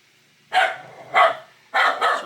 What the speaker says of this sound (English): a dog was barking and Jess decided to respond